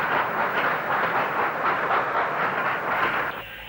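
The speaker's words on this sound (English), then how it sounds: "44681 comes off the through roads from Oxford Road, with the through working destined for Crewe." Steam locomotive 44681 running on the through roads toward Crewe with a through working, giving a steady broadband rumble with faint rhythmic pulsing that eases off near the end, with no voices.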